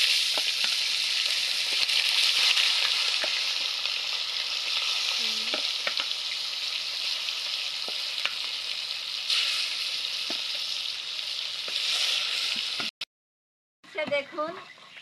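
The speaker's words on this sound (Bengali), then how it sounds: "মাছ ভেজে নিব এবার।" Fish fries in hot oil with a loud, dense, continuous sizzle close by, broken by occasional utensil clicks, then a sudden brief silence and a short burst of spattering at the end.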